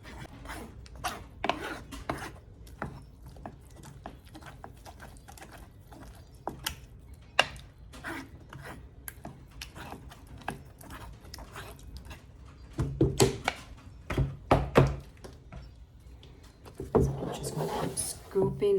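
Cooked tomatoes for homemade sauce are pressed and rubbed through a mesh strainer, giving a quiet rasping and scraping that grows into heavier bursts near the end, with a voice talking now and then.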